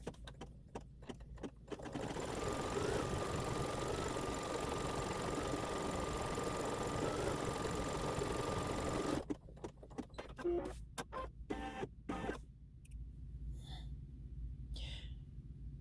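A sewing machine stitches zigzag stripes on a Santa's-workshop quilt block, a steady close mechanical whir running for several seconds, with soft handling clicks and rustles before and after.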